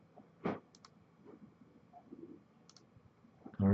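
A few faint computer mouse clicks, small sharp ticks spread across a quiet room, with a louder bump partway through and a sudden loud sound cutting in at the end.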